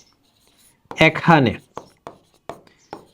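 Pen writing out data on paper for a class 8 math lesson, a few short scratchy strokes between brief bursts of close speech.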